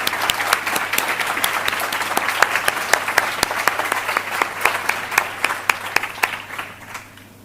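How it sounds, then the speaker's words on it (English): An audience at the 2025 New South Wales Australian of the Year Awards applauds recipients asked to stand, with sustained clapping and crisp individual claps standing out before it tapers off near the end. "please join me in giving them a round of applause"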